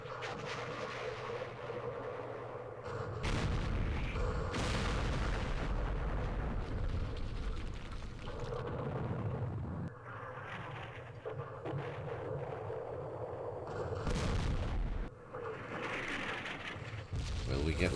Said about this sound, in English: So that's where the artillery is.